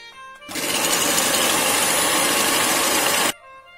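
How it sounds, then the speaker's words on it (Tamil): An electric hand beater runs at medium speed whipping vanilla-flavoured sweetened cream for an eggless red velvet cake frosting, a steady whirring drone that switches on abruptly, holds for about three seconds, then cuts off. "மீடியம்ல வச்சு பீட் பண்ணிக்குவோம். நல்ல ஹை பீக் வர்றது வரைக்கும் பீட் பண்ணணும்."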